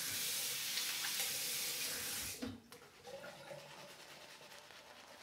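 Tap water runs steadily into a sink or bowl while shaving soap is lathered, a close, continuous rush that cuts off abruptly partway through, leaving softer wet handling sounds.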